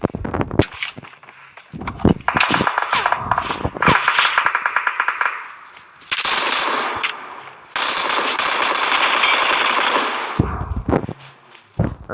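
Video game gunshots come in repeated rapid bursts and single cracks, loud and close, with metallic mechanism clicks between volleys.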